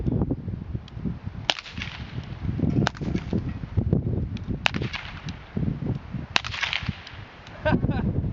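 Sharpshooters fire breech-loading rifles by file: four sharp cracks come one after another at roughly even spacing, over a busy outdoor background of rustle and murmur.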